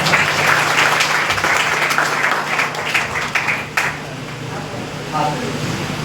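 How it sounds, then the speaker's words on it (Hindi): Audience applause fills a crowded honouring ceremony, sustained and fairly loud with a busy, textured patter that eases off slightly toward the end, while voices talk over it. "ढेर सारी तालियां बजाओ भाई।"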